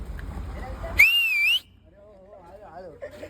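Among friends on a car ride along Marine Drive, Mumbai, one loud, wavering whistle rings out for about half a second over engine rumble, followed by voices talking.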